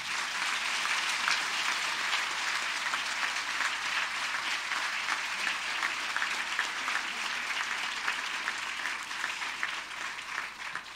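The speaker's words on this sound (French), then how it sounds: "On les applaudit" Audience applause at a university graduation ceremony: steady, sustained clapping from a large crowd, even and dense throughout, tapering slightly at the end.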